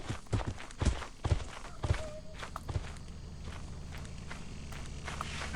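Heavy footsteps of a giant in the video game Lethal Company, a series of thudding steps that start clear and close then blur into a dense rumbling background.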